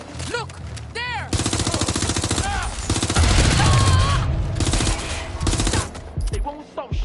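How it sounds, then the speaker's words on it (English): Bursts of rapid gunfire from Watch Dogs: Legion, loud and sustained through most of the stretch, mixed with game effects and intermittent shouted voices. "They won't stop shooting."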